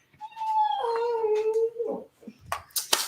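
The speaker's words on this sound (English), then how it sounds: "That's my dog Mary saying hello." A pet dog howls in a long, wavering, rising-and-falling tone for about two seconds, close and clear, followed by a few short, sharper yips and noises near the end.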